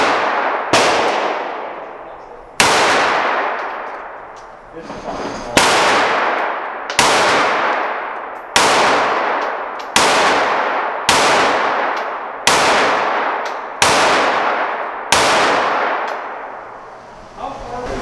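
A CZ Shadow 1 handgun fired at a gun range: about a dozen loud, sharp shots at an even pace, roughly one every second and a half, each leaving a long ringing decay.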